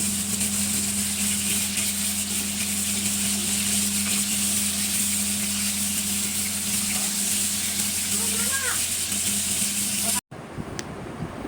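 Fish frying in hot oil in a frying pan, a steady loud sizzle with a constant hum behind it that cuts off abruptly near the end.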